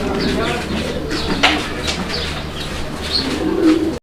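A pair of Lahori pigeons coo in low, repeated throaty rolls at close range, with occasional chirps and someone talking over them throughout.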